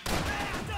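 Gunfire in Max Payne 3, a loud continuous barrage of shots with dense impacts filling the short burst and a faint voice mixed in underneath.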